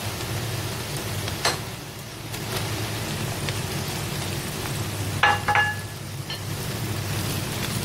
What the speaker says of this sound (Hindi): अब इसमें हम कटे हुए आलू शामिल कर देंगे